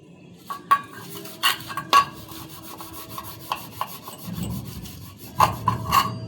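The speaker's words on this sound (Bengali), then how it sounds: "ভালো করে গায়ের জোর দিয়ে ঘষো।" Vigorous hand scrubbing of bronze (kansa) dinner plates, with rough rubbing and scraping strokes, occasional metallic clinks and knocks, and a heavier grinding scrub near the end, close and loud with no talking.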